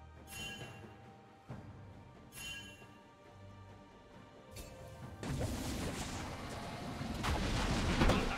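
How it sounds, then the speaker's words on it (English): Turret destruction in League of Legends, a series of crashing, booming impacts building into a dense, rumbling collapse over several seconds, with a sharp metallic smash at the start. "Blue team's turret has been destroyed."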